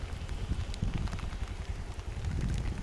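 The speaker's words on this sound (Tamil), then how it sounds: "பெரிய மழை ஆரம்பிச்சிருச்சு." Heavy rain just starting up, a steady crackling patter with rumbling gusts in the background, moderately quiet and unbroken, with no voices.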